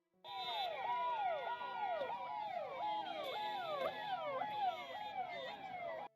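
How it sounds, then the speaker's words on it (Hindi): Several wailing vehicle sirens and hooters overlap loudly and continuously at the 2025 Maha Kumbh in India, their pitches sweeping up and down in repeated cycles, with a steady crowd-like rumble underneath. "इन गाड़ियों की, इन सायरन की, इन हूटरों की क्या आवश्यकता थी"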